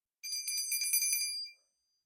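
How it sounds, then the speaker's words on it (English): A small bell is rung once during a tarot reading, a bright shimmering chime that rings for about a second and then fades cleanly into silence, with nothing else heard. "I'm gonna go ahead and ring the bell"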